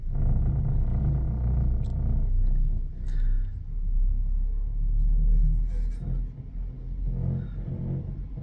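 A cable car gondola on the Edelweiss line at Rosa Khutor, a mountain resort, starts moving again, with a steady low mechanical rumble and drone that swells and fades, plus faint creaks and knocks.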